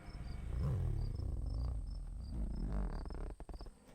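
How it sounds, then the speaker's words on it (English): Crickets chirp in steady, repeating pulses over a low rumbling background, continuous and moderately close, with no voices. "they all fell asleep to the sound of nothing but crickets"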